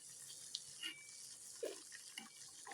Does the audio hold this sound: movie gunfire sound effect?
no